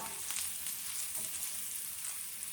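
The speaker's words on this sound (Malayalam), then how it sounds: "വീണ്ടും നന്നായിട്ടൊന്ന് ഇളക്കി കൊടുക്കാം" Onions fry with turmeric in a pan under a close, steady sizzle, broken by quick bursts of stirring scrapes and crackles at an irregular rhythm, with no speech.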